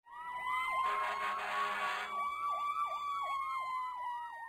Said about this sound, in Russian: Пожарный автомобиль.